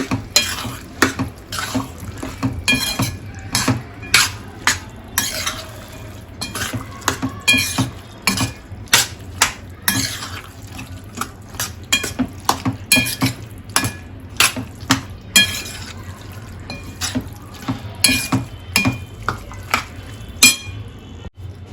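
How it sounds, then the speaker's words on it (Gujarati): A spoon stirs and mixes tuver totha curry in a metal pot, giving repeated sharp clinks and scrapes against the pot in an irregular rhythm, close and clear throughout. "હવે સરસ રીતે મિક્સ કરી દઈશું બધું"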